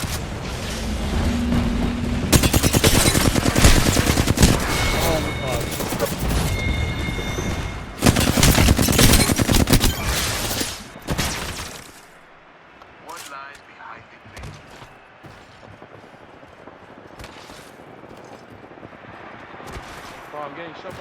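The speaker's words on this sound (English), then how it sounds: "Bro, I'm getting shot by you." Dense bursts of gunfire from the Apex Legends video game, heavy automatic fire in two loud stretches that drop to sparser, quieter shots, with a player talking over them.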